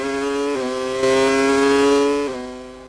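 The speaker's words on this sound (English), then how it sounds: "Listen to that Mecha Renault engine." A 1998 Formula One car with a Mecachrome Renault engine screams at high revs during the German Grand Prix, its pitch shifting through gear changes before fading slightly at the end.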